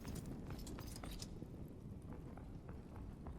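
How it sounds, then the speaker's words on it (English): Fast footsteps in the dark fantasy game Dark and Darker, a quick run of soft, rhythmic thuds heard faintly at a distance beneath a low, rumbling ambient drone. "Trying to listen to what those footsteps are."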